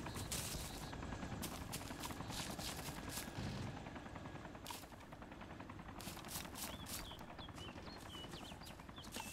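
Helicopter rotor chatter and bursts of rapid gunfire in the combat video game Arma 2, dense and continuous, fairly faint with quick crackling shots throughout.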